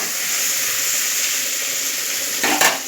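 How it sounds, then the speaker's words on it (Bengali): Pointed gourd and karkol slices, coated and dropped into hot oil, fry with a steady broadband sizzle throughout, briefly flaring louder near the end as more pieces hit the oil; close and continuous with no talking. "তেল গরম হয়ে গেছে, এবার আমি এই মাখিয়ে রাখা পটল আর কারকলটা একটু ভেজে নেব।"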